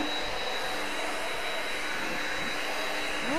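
An electric leaf blower bought on Amazon, which doubles as a vacuum, runs steadily during DIY work in an empty house, giving off a constant whirring roar with a thin high whine.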